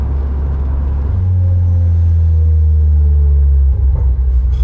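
An MG TF 135 roadster, an 80th anniversary edition, drives along the road with a loud, close, steady engine drone whose pitch climbs gradually before easing near the end.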